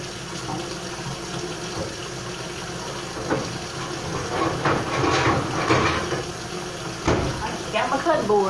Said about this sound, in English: you got to make sure that you're washing them off